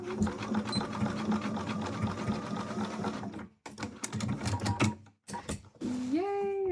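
Close, loud sewing machine running in fast bursts as it stitches cosplay fabric with elastic pieces for a Link costume, stopping and starting several times, with a tonal whine rising at the end.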